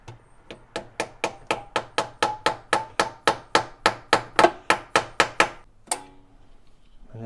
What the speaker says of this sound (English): we'll put the extractor in there, tap on it just a little bit.